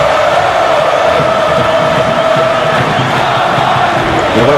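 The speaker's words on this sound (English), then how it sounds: "Listen to this crowd again." Packed crowd at a wrestling event cheering and roaring loudly and steadily, with shouts and whoops blending into a continuous dense wall of noise.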